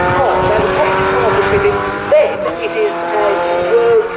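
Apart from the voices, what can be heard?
Fun Cup race cars passing at Snetterton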